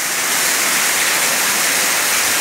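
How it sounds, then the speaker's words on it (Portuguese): A waterfall inside a cave near Ilicínea in southern Minas Gerais, swollen by rain, roars as one loud, steady rush of water, close and unbroken, with no voices. "Vamos sentir só o barulho da água."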